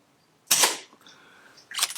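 A Brocock Atomic XR air pistol fitted with a moderator fires two sharp, muffled snaps about a second apart, each with a short crisp tail, against a quiet backyard.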